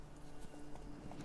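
Horse hooves clip-clop in The Witcher 3: Wild Hunt, a quick run of faint, soft hoofbeats over a low game ambience.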